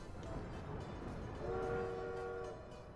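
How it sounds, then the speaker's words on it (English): Diesel train in the Workers and Resources city-building game, a low steady rumble with a sustained horn-like tone rising midway, fairly faint with no voices. "Yeah, this is the diesel train."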